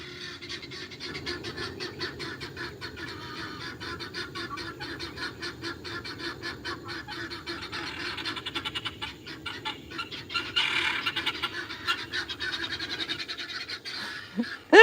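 Chickens cluck steadily throughout, several birds close by, with a louder burst of fowl calls near the end.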